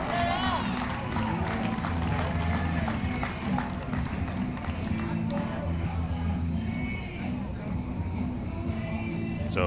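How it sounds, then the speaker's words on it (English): Crowd applause and cheering at a Little League regional baseball game, a moderate outdoor clapping under steady crowd murmur, with people chattering and calling out throughout. "J.R. Kitchens gets a nice round of applause"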